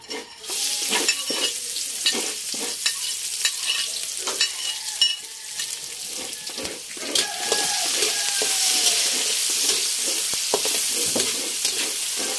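Onion, garlic, ginger and pork lungs sautéing for bopis in an outdoor riverside resort kitchen, a steady loud sizzle with repeated stirring scrapes and clanks throughout, growing denser toward the end, with no talking.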